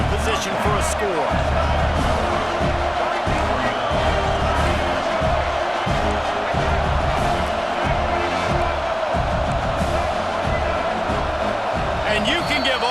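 Roaring stadium crowd in EA Sports College Football 26, a dense, sustained wall of cheering and chanting that swells in big moments, with a commentator's voice running over the top.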